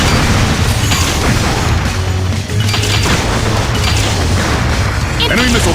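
Enemy missiles explode in the video game Liberation Maiden, a dense run of loud booms and crashes layered over busy game sound effects and music, continuing with hardly a break.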